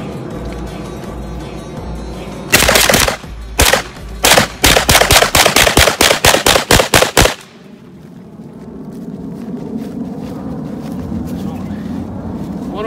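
A gun fires repeatedly at a target outdoors, a loud nearby string of about a dozen sharp shots in an uneven rhythm, followed by wind-buffeted quiet.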